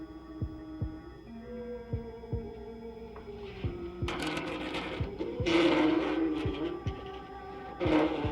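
A heartbeat behind a panel, a slow regular thumping pulse over a low steady hum, joined later by louder bursts of hiss and rattle.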